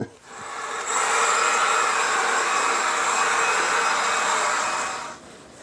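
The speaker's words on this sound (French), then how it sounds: "Et on peut bien sûr accélérer les choses avec un sèche-cheveux." A hair dryer switches on and blows with a steady, loud whooshing hiss for several seconds before shutting off.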